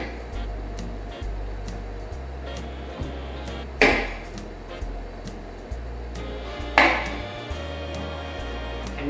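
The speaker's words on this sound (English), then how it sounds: "So I'll go ahead and just cut the ends off of the zucchini." Knife chops through the ends of a zucchini on a cutting board, two sharp, close knocks a few seconds apart over a steady low background hum.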